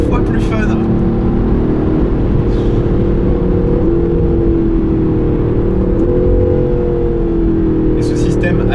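A 2019 Aston Martin Vantage AMR with a manual gearbox pulls steadily in sixth gear, its engine a continuous loud, droning growl with a low rumble, holding the same pitch throughout the stretch.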